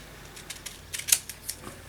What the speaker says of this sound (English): I have to cut that bottom one there, so that will fit there. So let me just snip that.